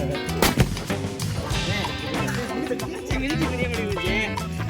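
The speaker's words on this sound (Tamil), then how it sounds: "இது யானை வெடி" Diwali firecrackers burst outdoors, including an elephant cracker, with a sharp loud bang near the start followed by crackling pops and echoing rumbles, while people talk and shout over the noise.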